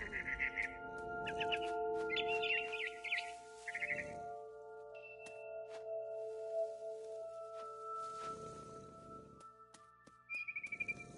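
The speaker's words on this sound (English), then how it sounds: "It was a barn swallow going back to her nest." In the game What Remains of Edith Finch, a barn swallow flies back to its nest with short bursts of high chirps and twitters repeating over a low ambient hum, fairly clear and close, with no voices.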